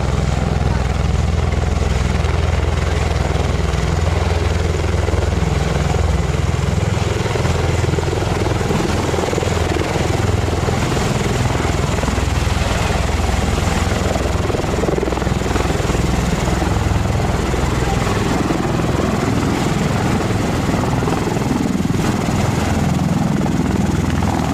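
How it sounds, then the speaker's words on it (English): A Bell Boeing V-22 Osprey tiltrotor lands at a waterside park on Memorial Day, its rotors producing a loud, continuous heavy thrumming roar with broadband wash that stays steady throughout. "The American converter plane, the Bell Boeing V-22 Osprey, lands at Glen Island Park in New Rochelle on Memorial Day."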